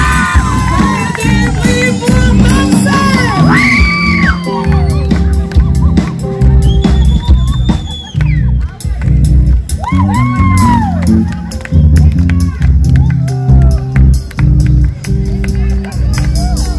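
An outdoor live concert audience at a park cheers, whoops and shouts loudly in bursts with high-pitched screams, while voices call out over the crowd noise.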